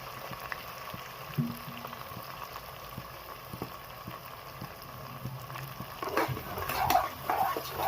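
Onions fry with salt and dried red chillies in a pan, giving a steady low crackling bubble throughout, with louder clinks and sharper sizzling bursts near the end as they are stirred.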